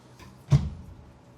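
Built-in closet doors in a TownePlace Suites hotel room swing open with a single soft thud and short rattle, close by and brief, followed by quiet.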